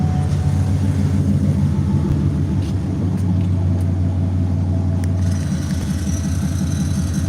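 A truck with dual exhaust idles with a deep, steady rumble close by, loud and continuous, with a faint shift in tone near the end and no clear talk.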